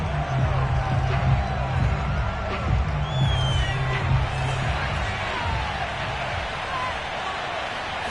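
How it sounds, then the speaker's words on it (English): A football stadium crowd shouts and roars in a steady, dense wash during a replay, with scattered whoops and whistles rising above the continuous noise and voices talking over it. "Plenty of shouts from this crowd as they watch the replay."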